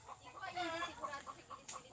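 Hens at a Filipino backyard laying spot cluck in short, quiet, repeated bursts close by, a soft rhythmic chatter with a faint crow-like call near the end.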